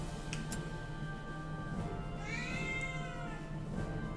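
A cat in the video game Drakengard 2 gives one drawn-out meow midway over a steady low background hum, fairly close and without any talk.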